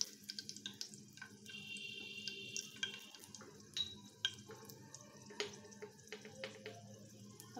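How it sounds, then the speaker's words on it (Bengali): Whole spices (cinnamon stick, bay leaf, two cardamom pods and a clove) fry in hot oil, giving a steady close sizzle with scattered small pops and crackles and no talking. "এখন আমি এক টুকরা দারচিনি, একটা তেজপাতা, 2টা এলাচ, একটা লং দিয়ে সুন্দর করে ভেজে নেব।"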